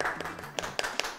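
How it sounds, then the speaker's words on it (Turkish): Scattered hand claps for a student in a classroom, a handful of sharp, uneven claps close by over about a second, sparse rather than full applause. "Matematikte alkışlayalım."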